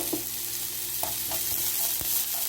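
Onion, peas and coriander sauté in a pan for vermicelli upma, giving a soft, even sizzle up close with a few light scraping taps from stirring.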